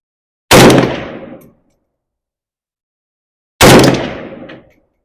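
Two loud, close shots from a Zastava M70 ZPAP AK-47 rifle, about three seconds apart, each a sharp crack with a short rumbling decay, and silence between them.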